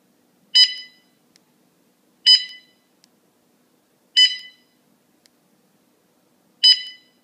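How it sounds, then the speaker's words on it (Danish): A CipherLab CP60 handheld terminal beeps as it scans a barcode: four short, bright electronic beeps, evenly spaced about every two seconds, with near silence between them. "så går vi fra siden af ind og læser stregkoden"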